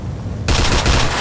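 Gunfire in the Mafia 2 video game, Jimmy's Vendetta: a sudden loud burst of rapid shots that cuts in after a brief quiet moment.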